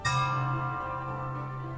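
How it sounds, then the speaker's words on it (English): A great bell in the video game Love and Deepspace is struck once with a wooden stick, a loud bright strike followed by a long, steady ringing hum that slowly fades. "And I strike the great bell again with the wooden stick."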